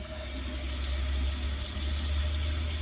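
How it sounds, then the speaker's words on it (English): A garlic press rinsed under a kitchen tap sets off a steady, low stream of running water that flows on without a break, rather faint and with no voices over it. "I'm rinsing off my garlic press."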